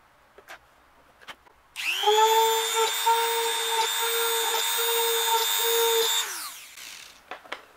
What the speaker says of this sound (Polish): Teraz nawiercimy sobie z góry.